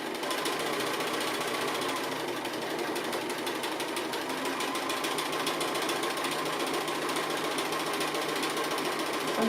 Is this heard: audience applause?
no